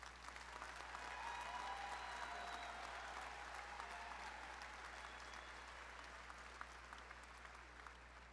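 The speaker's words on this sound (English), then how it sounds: "Can we give another round of applause for our graduates?" A commencement audience applauds graduates at a university ceremony, a dense, sustained wash of clapping from a large crowd, heard faintly and evenly throughout.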